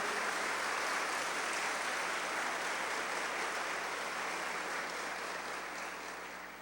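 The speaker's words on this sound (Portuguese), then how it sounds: "Pode aplaudir para valer." A congregation at a church talk applauds, a dense wash of clapping that stays steady and then slowly fades toward the end, sounding somewhat distant and muffled.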